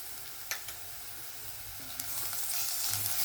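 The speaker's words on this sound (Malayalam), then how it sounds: "ഇനി ഇതിലോട്ട് 1 table spoon ginger garlic paste ഇട്ട് കൊടുക്കാം." Ginger garlic paste frying with sautéed onions in a pan gives a soft, steady sizzle with a couple of light utensil taps, faint and close, with no talk.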